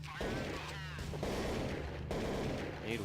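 Gunfire cracks through a gap in a wall during a competitive shooter match at an ESEA LAN, sounding as quiet bursts of shots under steady commentator talk.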